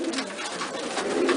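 Pigeons coo continuously inside a loft, a close, soft, overlapping murmur of several birds with no talking.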